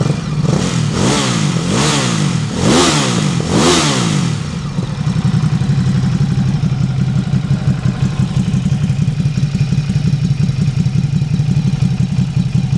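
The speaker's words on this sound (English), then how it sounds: "Listen to the engine, hopefully you can hear that sounds well." A 2017 Ducati SuperSport S motorcycle engine revs sharply four times in quick succession, then settles into a steady, throaty idle close by.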